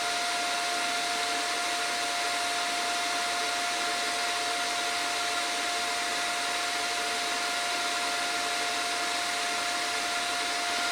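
A Lidl Parkside PTMI 180A1 inverter welder sits switched on and idling, giving off a constant, even fan-like hum with a thin steady whine and no change throughout.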